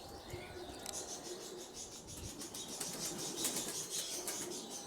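Pigeons coo and flutter among chirps, with brief wing flaps and bird calls of middling loudness over a low background hum.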